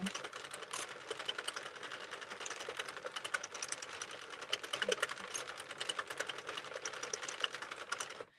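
Hand-cranked machine turned smoothly, a rapid, even chatter of fine mechanical clicks running continuously at a steady pace, close and fairly quiet, no voices.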